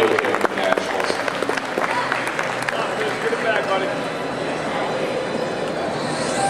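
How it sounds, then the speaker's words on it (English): An audience claps for the top 8 competitors at the 2011 Pokémon Video Game Nationals. Sharp claps come early, then a dense, sustained applause continues while an announcer talks over it. "another round of applause for all of our top 8 competitors here at the 2011 Video Game Nationals"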